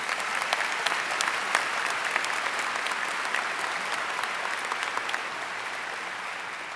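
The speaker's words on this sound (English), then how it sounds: "Can we have a round of applause for all of these people?" A large audience applauding at a university's 50th anniversary celebration, sustained full clapping from many hands with a few sharper nearby claps, holding steady and easing slightly toward the end.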